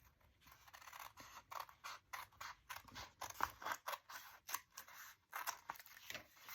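Rapid snipping of small scissors cutting through paper, a quick irregular series of crisp cuts, close and fairly quiet.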